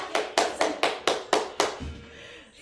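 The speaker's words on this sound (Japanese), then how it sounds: "はい、拍手" A short burst of about seven crisp, evenly spaced hand claps during a stretching exercise session, close and clear, ending abruptly and followed by near silence.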